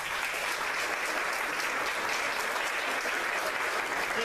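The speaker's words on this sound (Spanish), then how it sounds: "Hidalma Gabriela Ávila Alvarado, para quien le pido un fuerte aplauso." Sustained audience applause at a primary school sixth-grade closing ceremony, dense and even clapping from a large crowd, continuous throughout with no speech over it.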